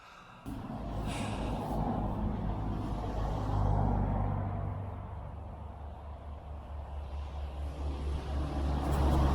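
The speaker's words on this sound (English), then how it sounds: "the traffic around here is a total joke, if I'm being brutally honest. It is so loud." Continuous low road traffic rumble near Silbury Hill, vehicles passing close by with engine noise swelling and fading, no talking.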